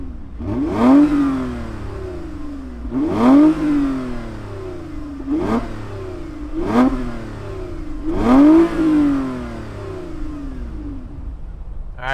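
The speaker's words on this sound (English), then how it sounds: "let's fire it up and hear that catback exhaust growl" The catback exhaust on a 2021 Toyota Avalon TRD growls through five sharp revs spaced a couple of seconds apart, each swelling and falling back to a steady idle, heard close and alone.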